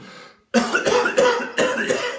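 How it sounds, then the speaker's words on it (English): After a brief pause, a burst of harsh coughs follows, about three rough hacks in close succession, loud and near. "you cough,"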